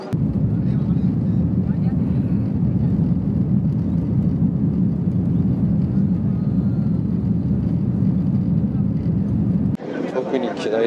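A steady, loud engine drone fills an airplane cabin just before takeoff, a dense low rumble that holds unchanged before cutting away to a different noise at the end.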